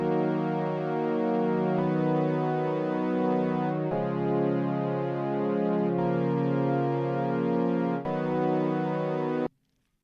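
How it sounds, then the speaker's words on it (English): Sustained Prophet 10 organ patch played as a bass line, layered with a VFX organ pad, from a keyboard setup; chords hold steady and shift every couple of seconds, loud and continuous before cutting off near the end. "I used the Prophet 10 organ as a bass for this sound"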